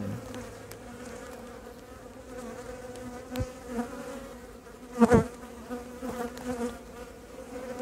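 Honeybees hum steadily around an opened hive during an inspection for the queen, a dense low drone with a louder swell of close buzzing midway. A voice speaks briefly and quietly.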